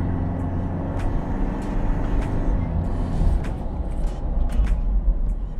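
Mitsubishi All New Pajero Sport slowing under braking from 100 km/h, heard from inside as a steady low road and engine rumble with a few faint hissing ticks, no talk.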